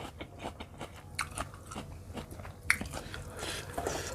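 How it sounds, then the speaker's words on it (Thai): Crunchy squid tentacles from a spicy seafood platter being bitten and chewed up close, a run of crisp crunches and wet chomps in an uneven rhythm, loud and intimate with no talking. "หนวดหมึกอร่อยอ่ะ มันกรอบๆเด้งๆค่ะ"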